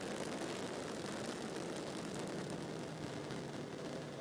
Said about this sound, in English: Ignition. And full throttle. Lift off.